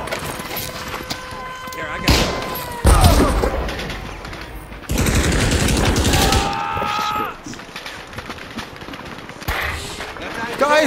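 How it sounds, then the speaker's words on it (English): Grenade blasts and gunfire crash through a Pavlov VR D-Day battle: heavy booms and thuds, rattling bursts of shots, and shouting voices over the chaotic, loud mix. "Oh my God, the grenade!"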